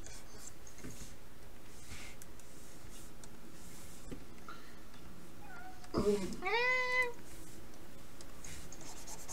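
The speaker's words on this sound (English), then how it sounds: "What do you want, cat? I already fed you." A cat meows once, a short rising-falling cry near the middle of otherwise steady background noise, moderately loud and close, with faint scratchy sounds around it.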